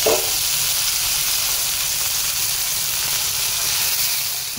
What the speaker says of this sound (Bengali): এই যে পমফ্রেট মাছ ভাজা হচ্ছে, এটা আজকে রান্না করবো।